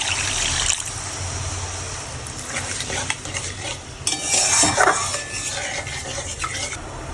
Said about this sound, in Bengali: এরপর সামান্য পরিমাণ জল অ্যাড করা হলো